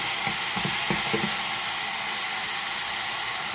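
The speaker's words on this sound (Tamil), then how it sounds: "கருவேப்பிலையும் நல்லா பொரிஞ்சிட்டுது பாருங்க" Curry leaves frying in hot oil for ven pongal, a steady close sizzle and crackle with a few brief louder pops early on.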